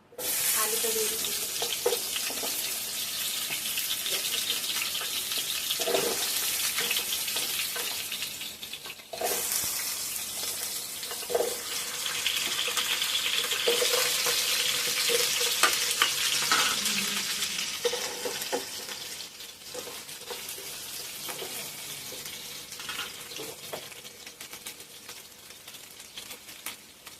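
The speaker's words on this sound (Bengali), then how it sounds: "আলুটা সেই একইভাবে আমি লাল লাল করে ভেজে নেবো" Potato pieces fry in a little oil in a wok with a steady, close sizzle that runs for most of the time, broken by a short dip, stirring scrapes and clatter, and no voices.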